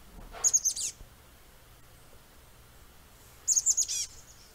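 Chestnut-backed chickadee calls on Mount St. Helens: two short bursts of high, rapid chattering notes, each about half a second long and separated by quiet, clear and fairly close with no talk.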